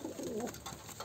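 Spotted domestic pigeons of a tumbler breed cooing close by, a short warbling coo over faint background noise.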